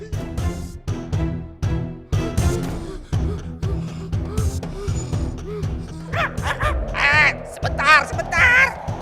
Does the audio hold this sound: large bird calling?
yes